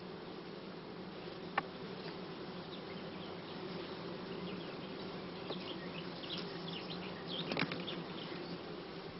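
Steady, dense buzzing of many honey bees and drones on hive frames filling the scene, with a couple of brief closer wingbeat passes standing out from the hum.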